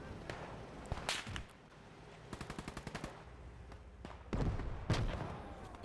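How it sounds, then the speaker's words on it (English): Machine gun fire in the World War II video game Gates of Hell, with a rapid rattling burst amid sharp single shots and heavier distant booms, loud and continuous battle noise without talk. "That MG is pinning them down."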